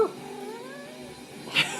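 A pet cat gives a drawn-out, wavering meow up close, followed by a brief, sharper second cry near the end.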